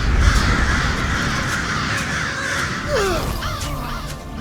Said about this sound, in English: you signal the crows to attack